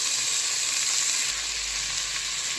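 Three medium tomatoes fry in a pan with ginger garlic paste for tomato rice, a loud, steady sizzle close up, dense and continuous, with a low rumble joining halfway and no talking.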